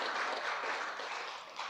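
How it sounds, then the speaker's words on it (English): Audience applause filling a hall at a security conference closing ceremony, a steady even wash of clapping from many hands throughout, no talk over it. "let's give a round of applause to all three of those charities and for the money raised for them"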